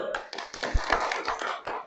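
A classroom of students claps together for a brief, quick burst of scattered hand claps, fairly faint.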